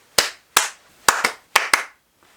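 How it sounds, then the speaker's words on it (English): Six crisp hand claps in a rhythmic pattern, spaced as two singles and then two quick pairs, ring out close and clear with a short room tail as a classroom call-and-response signal, no voices. "Another popular way is the rhythm clap."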